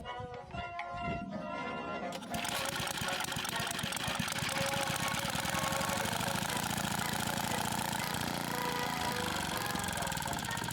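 A small engine, its carburetor just cleaned, runs steadily with a loud, close, rapid mechanical chatter, and faint mumbled talk is audible at the start before it revs up.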